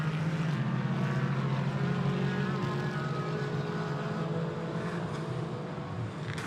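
GT4 race cars, Mercedes and BMW among them, race at the Misano circuit, their engines making a steady, dense roar that holds evenly throughout without any talk.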